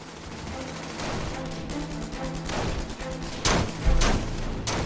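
Dense gunfire in an infantry fire-and-movement assault: continuous rattling bursts and shots at mid distance, with a few heavier thumping blasts later on.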